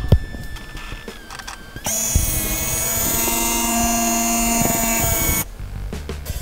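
A 1998 Kodak DC260 digital camera powers on with a mechanical whir: a quiet click and faint motor noise, then a loud sustained whirring drone for several seconds that cuts off abruptly, leaving the quieter room tone.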